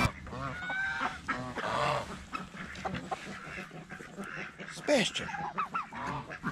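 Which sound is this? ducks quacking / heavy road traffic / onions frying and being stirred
ducks quacking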